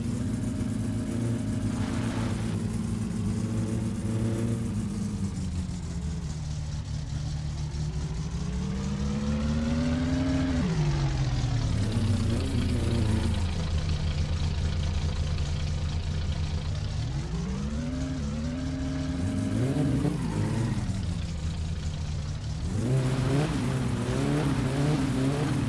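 A car engine in the driving game My Summer Car revs up and down repeatedly while the car drives, the pitch rising through the gears and dropping on shifts, loud and continuous for about 25 seconds.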